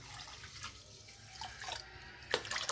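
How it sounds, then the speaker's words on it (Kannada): Tap water runs and splashes into a pot of rinsed rice and lentils for sweet pongal: a soft, steady trickle that grows into a brief louder gush near the end, heard alone. "ಇದಕ್ಕೆ ನಾವು ನೀರು ಹಾಕ್ಕೊಂಡು ಕೂಗಿಸ್ಕೊಬಿಡೋಣ"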